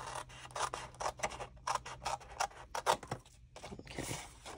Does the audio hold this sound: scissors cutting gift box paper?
yes